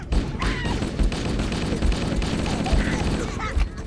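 A chain gun in the Cursed Halo mod for Halo fires in a rapid, continuous stream of loud close shots with heavy low thumps, rattling steadily for several seconds.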